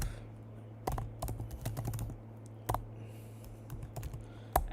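Keys clack on a computer keyboard in short irregular bursts of taps at close range during live coding, with clear pauses between runs and a steady low hum underneath; no one speaks.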